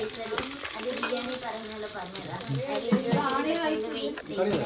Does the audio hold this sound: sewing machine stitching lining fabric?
no